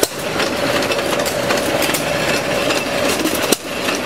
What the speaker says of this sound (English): More of these hit or miss style engines.